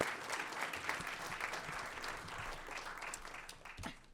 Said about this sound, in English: Let's give a round of applause for Lancelot